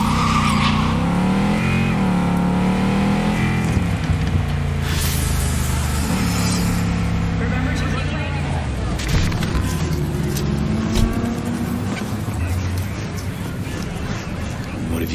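A car driving in Cyberpunk 2077, its engine droning steadily with rising revs and tire noise throughout, loud and close, with a voice talking over it early on.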